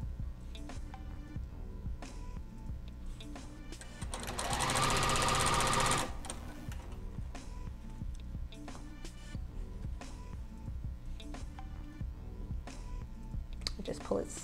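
A sewing machine stitches an elastic waistband onto a garment, running with a steady fast mechanical chatter throughout and getting louder for a two-second burst in the middle, with handling noises mixed in.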